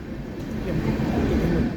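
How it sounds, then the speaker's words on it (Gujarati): Train arriving at a station on a Jamnagar to Keshod route, a steady loud low rumble of rolling wagons, close by and continuous throughout. "ફાઇનલી ટ્રેન તો આવી ગઈ હવે ચડવાનું ચાલુ કરીએ"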